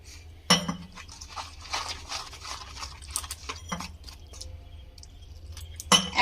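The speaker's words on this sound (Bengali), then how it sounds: "এবার আমি দিয়ে দেব এই উপকরণগুলোকে একটু মিশিয়ে নেব এইভাবে" Flour batter ingredients being mixed in a bowl, with a spoon clinking and scraping against the dish in an irregular rhythm, close and fairly quiet, with a couple of sharper knocks near the start and end.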